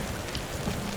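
Heavy rain with strong wind at night in the Tatacoa Desert, Colombia: a dense, steady roar of rain hitting surfaces and gusting air, loud and close throughout, no talking.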